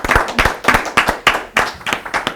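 An audience claps and applauds for a disco singer at a live show, with dense rhythmic bursts of clapping swelling and easing in waves throughout.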